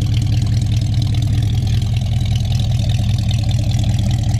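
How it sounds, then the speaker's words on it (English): A 1964 Ford Galaxie 500 engine idles steadily through dual exhaust with glass packs, a deep, rumbling exhaust burble, loud and close, with no voices. "Dual exhaust with glass packs, has a nice sound to it"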